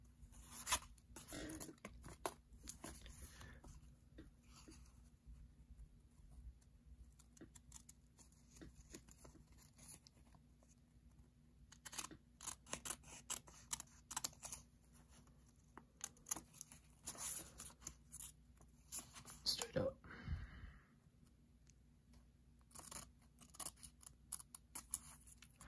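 Scissors snip through paper to make a paper F-14 model, with quiet, close, irregular cuts and rustles spread across a near-silent room, plus one brief louder rustle toward the end.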